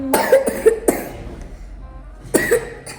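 A child coughing close by, about three harsh, throaty bursts separated by short quiet gaps.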